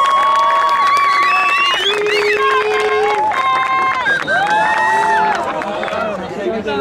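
A large crowd at a Spanish-language gaming event final cheers, shouts and applauds loudly and continuously, with many overlapping voices and whistles close by throughout.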